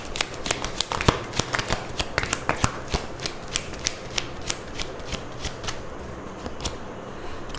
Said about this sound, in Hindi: एक ही कार्ड निकालूंगी मैं साईं बाबा डेक से भी